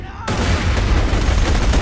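Sniper rifle fire in Borderlands 2: after a short quiet lead-in, a loud blast gives way to dense, sustained gunfire and explosive noise filling the rest of the moment.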